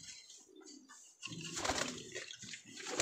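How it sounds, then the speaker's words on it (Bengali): A male khaki high-flying pigeon coos softly at close range in a bird farm, with faint fluttering and low ambient noise. "এটা আমার খুব পছন্দের একটা নর কবুতর।"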